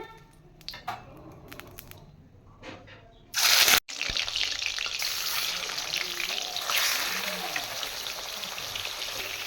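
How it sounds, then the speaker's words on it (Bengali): Chicken pieces drop into hot white oil, bursting into a loud rushing sizzle that settles into a steady, close frying hiss, preceded by faint clinks and a quiet voice. "তেল গরম হয়ে গিয়েছে, এর মধ্যে দিয়ে দেবো আমি এখন চিকেন।"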